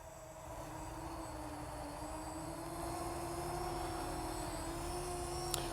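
Yuneec Breeze 4K drone lifting off and flying, a steady high-pitched rotor whine that rises slightly and grows a little louder as it climbs, continuous and close, no voices.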